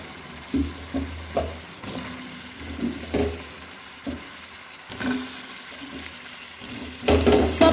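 Potatoes go into a frying spice mixture, followed by a series of separate soft scrapes and stirs with a gentle sizzle underneath and a louder burst near the end. Quiet and close, with no talking.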